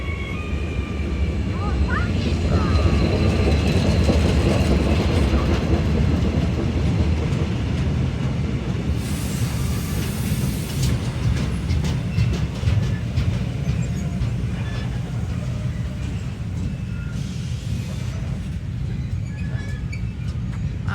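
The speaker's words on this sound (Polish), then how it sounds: "a tutaj jedzie nasz skład." A train approaching on a railway line near Přerov, a loud sustained rumble and rolling clatter of wheels on track with high squealing tones, while people talk over it.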